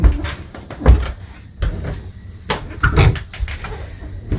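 A cabin door aboard a Fountaine Pajot Bahia 46 catamaran opens with several short knocks and clunks of latch and panel, close and fairly loud, spaced over a few seconds.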